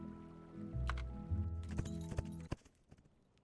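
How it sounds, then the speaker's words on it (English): Horse hooves during fast travel in the Potion Permit video game, a quick run of clip-clop beats over a low rumble, fairly close, with sharp hoof hits toward the end and no talk. "imagine I am riding a horse because it does not sound like any teleport that I know."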